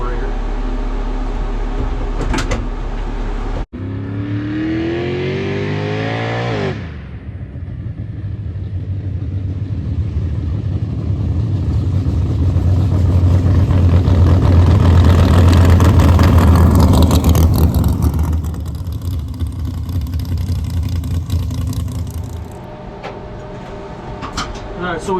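A car with an ATM carburetor and a fresh set of spark plugs runs steadily, its engine rumble building to a loud, sustained drone before easing off. Voices may be mixed in.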